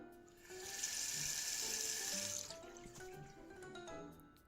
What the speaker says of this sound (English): I jumped when I heard the rush of water pouring in, swirling in a basin before disappearing to who knows where